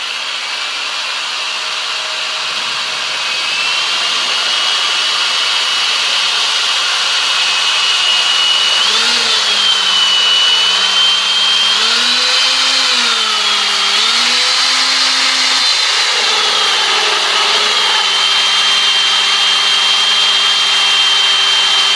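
A diamond drill bit grinds through a Jagermeister glass bottle in a loud, continuous whine that rises and wavers in pitch as the bit bites into the glass, heard up close and alone.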